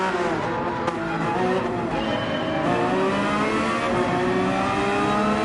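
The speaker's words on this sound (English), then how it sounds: "Helps to start with the throttle down, or as I like to call it, pedal to the metal, but not over revving." A race car engine revs hard at the start of a race at Barcelona with a loud, continuous, rising whine and rich layered harmonics. Other engines and possible tire squeal blend into the roar. No one speaks.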